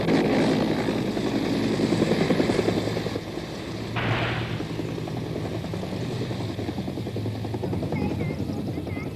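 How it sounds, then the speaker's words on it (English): American military helicopters flying low over the Saigon River in 1967, a steady loud rotor and engine drone throughout, fairly close overhead. "And overhead are the American helicopters, flying low to see the bikinis."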